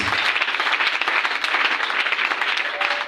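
A church congregation at a Sunday service applauds continuously and fairly loudly in dense, steady clapping that fills the room, acclaiming Jesus Christ.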